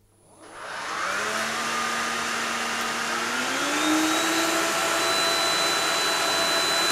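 A Bosch Athlet BCH6ZOO cordless stick vacuum cleaner switches on at level 1. A close, steady airy whine swells up within a second, then holds with a faint rising motor tone.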